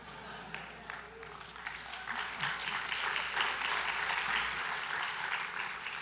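Audience applause at a talk, a steady dense wash of clapping that swells slightly and holds, with a murmur of voices underneath.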